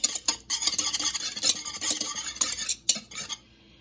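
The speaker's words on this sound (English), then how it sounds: "I'm just going to grab a whisk and whisk these up." Eggs whisked briskly in a bowl, rapid rhythmic metallic clattering and tapping, loud and close, with a brief pause before the strokes stop.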